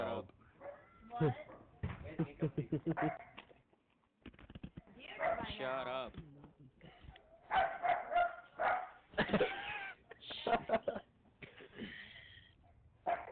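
A dog barks and whimpers in the video game Call of Duty Black Ops 2, in repeated bursts. The barking is mixed with a person talking loudly.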